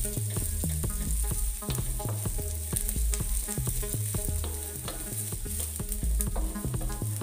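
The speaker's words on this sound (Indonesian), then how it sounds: "Lanjutkanlah menumis" White radish, spring onion stalks and garlic sizzling steadily in a wok with oyster sauce to come, while a spatula scrapes and clacks in a fast, irregular stirring rhythm close by.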